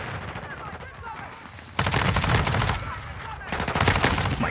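Rapid MP5 submachine gun bursts in Call of Duty: Modern Warfare 2, loud and close, with dense automatic fire starting partway through and a second burst near the end over ongoing game noise and some talk.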